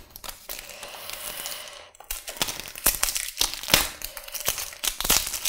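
Cellophane wrapper torn and crinkled off a deck of playing cards, close and fairly quiet, with irregular crackling rips and crumpling bursts.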